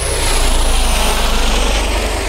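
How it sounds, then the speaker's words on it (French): Helicopters fly past just overhead, a loud, steady rotor and engine roar that fills the whole clip with no talking. "Regardez, les hélicos, ils passent juste en dessous."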